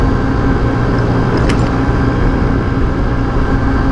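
Honda Ruckus scooter riding on a country road, a steady loud engine drone blended with rushing wind noise, continuous and close throughout.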